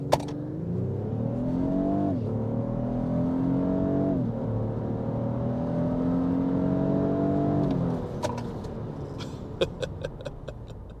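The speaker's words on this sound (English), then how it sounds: "I'm going to brake torque it here, foot all the way on the brake, on the gas." 2024 Lexus GX550 engine under a brake-torque launch, revving up and climbing through several rising pulls, then settling as it accelerates; loud, close and continuous with no talking.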